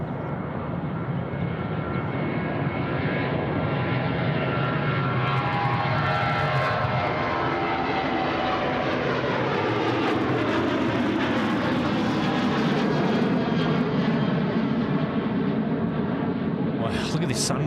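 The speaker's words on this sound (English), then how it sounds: "This is Velocity 909 now rolling runway 34 right." A Velocity airliner rolls for takeoff on runway 34 right at Sydney Airport, a steady broad jet engine roar building and sustained throughout, moderately distant, with rumbling low end and a faint voice over it.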